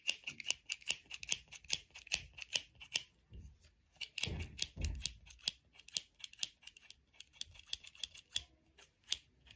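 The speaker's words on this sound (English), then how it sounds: "Next, scissors." Scissors snip repeatedly in a quiet ASMR setting, crisp close cuts in quick irregular runs with a brief rustle partway through, no voices.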